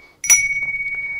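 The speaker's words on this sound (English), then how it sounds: "where it has one chime for the hours, a second chime for the minutes" A single bright chime from a minute repeater watch, played back through a laptop speaker, rings out once and sustains with a slowly pulsing hum that fades.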